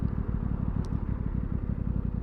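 An Aprilia Tuono 660 rolls along in first gear with no throttle, its engine putting out a low, rapid, even pulsing burble close by, with a faint tick partway through.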